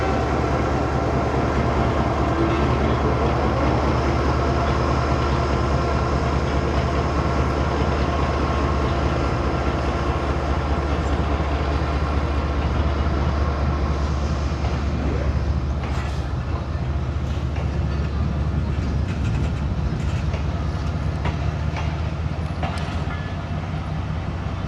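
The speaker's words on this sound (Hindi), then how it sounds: "सेकंड विसल के साथ इसने मूव करना शुरू कर दिया।" The 12 Down Hazara Express begins pulling out of a station in Pakistan on a scorching day, a steady low rumble of the train moving off with faint clanks and background station noise.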